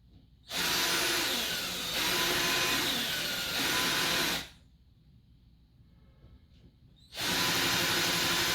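A Black & Decker 10mm cordless drill driver bores into a wall in loud, close bursts of high whirring, two long runs separated by a quiet pause with faint handling sounds.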